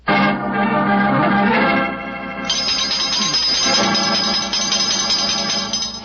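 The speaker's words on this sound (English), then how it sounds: "if any more clients come wrenching at my doorbell, I shall ignore them" A doorbell rings as a radio drama sound effect, giving a loud, near chime with sustained ringing tones that shift to a new pitch partway through and then linger.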